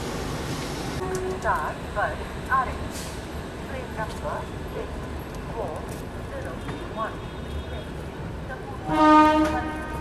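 The Secunderabad Duronto Express, heard from its 2AC coach after leaving Hazrat Nizamuddin station in Delhi, rumbles steadily with rhythmic clacking, and a horn sounds near the end; people talk over the noise.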